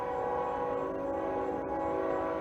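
A nearby train passes on a winter night, sounding a steady, sustained horn over a continuous rumble of rail traffic, with no voices present.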